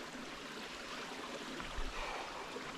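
A stream flowing along the Ouachita Trail in the woods, a constant soft rushing of water, even and fairly quiet, heard alone.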